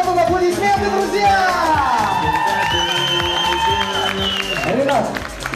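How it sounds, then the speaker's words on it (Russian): Audience applause and cheering at a birthday party for an event organiser, sustained and fairly loud, mixed with crowd hubbub, whoops and voices over a strong accordion-like melodic backing. "Вот он аплодисменты, друзья!"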